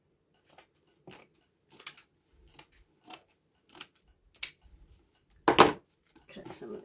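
Scissors snip through craft material in a quiet room, a series of short crisp cuts at uneven intervals with soft rustling between, close and fairly faint.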